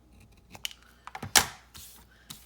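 Scissors trim paper in a few short, close snips and crisp cutting sounds, including one sharper louder cut, against a quiet background with no talking.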